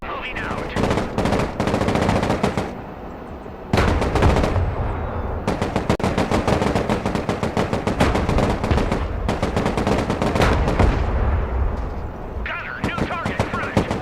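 Weapon fire in the video game Broken Arrow, dense and continuous: rapid machine-gun bursts and heavy booms run almost without pause, with short gaps, and voices are heard amid the shooting.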